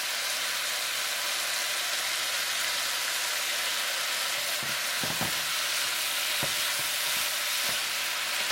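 Beef and cabbage stir-fry in a hot pan gives a loud, steady sizzle throughout, with a few scraping knocks of stirring near the end.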